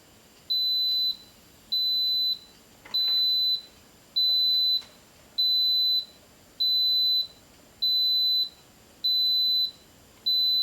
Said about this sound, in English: Ten beeps is what this one does when it has come to pressure.